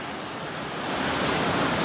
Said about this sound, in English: you can hear the rushing water, and you can hear the falling water